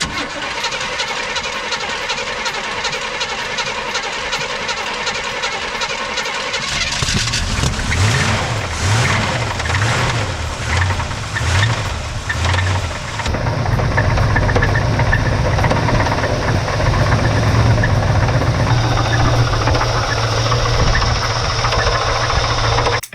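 A 1962 Chevrolet C10 truck with a 283 small block V8 and damaged, broken internals cranks, starts and runs loudly up close, its rough idle carrying uneven knocking and clattering noise throughout with no talk.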